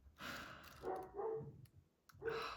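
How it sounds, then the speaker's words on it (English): Dogs bark in a handful of short, muffled bursts that sound faint and somewhat distant, with quiet gaps between them. "My dogs are going to be loud for a little while."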